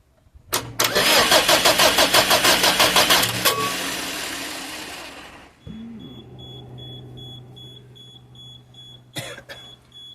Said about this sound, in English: We've cranked over the engine